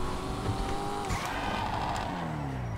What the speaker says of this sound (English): Oh, that engine, that exhaust note.